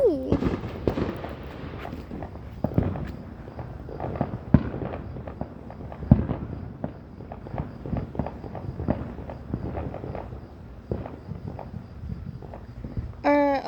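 Neighborhood fireworks explode at a distance, an uneven run of booms and crackling pops with short gaps between bursts. People murmur and talk quietly in the background.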